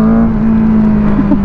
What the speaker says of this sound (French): Ce shifter, il peut vraiment passer les rapports, même à très très bas régime